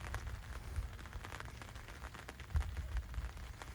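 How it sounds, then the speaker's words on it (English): Rain falls steadily outdoors at a fishing spot, a dense soft patter with scattered sharper drops, faint and continuous with no voices. "Unfortunately, it's raining"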